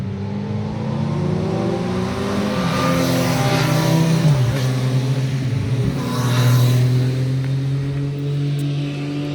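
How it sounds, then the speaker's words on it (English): Several motorcycles ride past outdoors, their engines droning and rising in pitch as they approach, then sweeping down as they pass by, fairly loud and continuous throughout with no speech. "here comes some more bikes."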